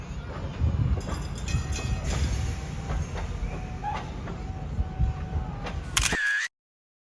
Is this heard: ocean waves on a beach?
no